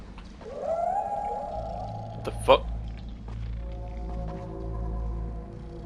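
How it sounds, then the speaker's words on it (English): A wolf howls in the Viking game Rune, a rising drawn-out tone over a low rumbling game soundscape, followed by a startled voice swearing and a brief thump. "I heard a wolf."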